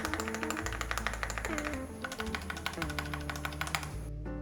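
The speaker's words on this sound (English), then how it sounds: "The included switches sound rather thin on the downstroke." Keys clack in fast, uneven bursts on a 65% custom mechanical keyboard whose stock switches sound thin on the downstroke. The typing is close and fairly quiet, with a steady tonal hum underneath.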